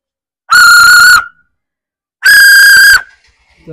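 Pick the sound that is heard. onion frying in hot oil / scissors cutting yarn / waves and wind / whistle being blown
whistle being blown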